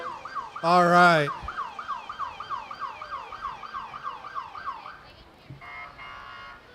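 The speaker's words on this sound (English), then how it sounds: "Excuse me, that's a truck with that horn or siren?" A parade truck at a Fourth of July summer festival sounds a short blaring horn blast, then a rapid wailing siren cycles over and over, close and loud, with crowd murmur beneath and a brief honk near the end.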